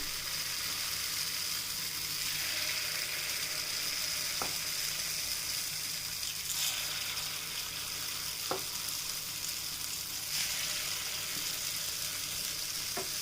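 Kuli paniyaram batter cooks in oil in a pan, giving a steady, even sizzle throughout with a few faint clicks and taps; no voices are present.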